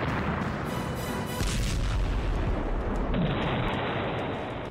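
Artillery shell fire in the Russia-Ukraine war: a dense, continuous roar of heavy booming and rumbling, loud and sustained throughout.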